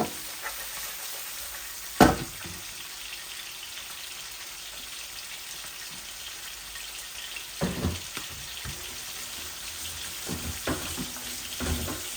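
Pieces of rohu and tilapia fish with salt and turmeric frying gently in oil in a pan, a continuous low sizzle broken by a sharp clatter early on and a few light stirring knocks later.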